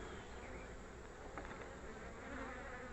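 Honey bees buzzing around an opened hive as frames are pulled out, a dense, steady swarm drone filling the air close by, quiet and continuous.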